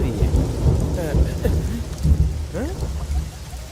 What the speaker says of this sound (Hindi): ओह, ये तो बारिश हो रही है।